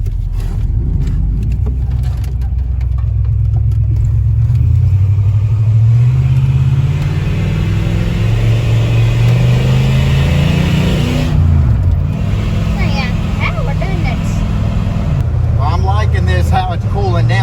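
An old $400 Ford rumbles along a main road, its engine note rising and falling as it accelerates and shifts, loud and close from inside, with brief talk near the end.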